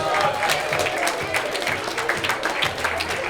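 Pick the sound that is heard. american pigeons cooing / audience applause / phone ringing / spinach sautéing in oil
audience applause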